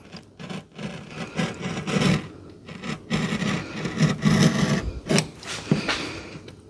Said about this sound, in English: Now what I'm going to do is use a knife, a utility knife, to score the drywall.